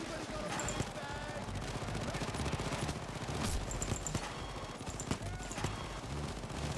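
Dense, overlapping bursts of automatic gunfire and sharp single shots fill a PAYDAY 2 heist shootout, continuous and fairly loud, with voices talking over the fighting.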